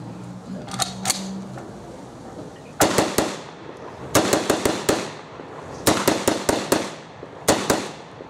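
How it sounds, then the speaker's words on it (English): An M1 carbine fires outdoors in sharp, loud cracks, in several quick bursts of two to five shots with short pauses between, each shot ringing out with a brief echo. "Now, I'm going to demonstrate the M1 carbine."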